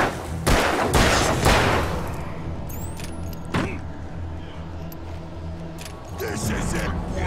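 Gunfire in a video game: a few sharp, loud shots near the start and another burst mid-way, over a steady low game rumble.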